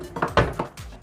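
Chocolate being stirred in a pan while melting, a utensil scraping and knocking against the pan in several close, uneven strokes with small clinks.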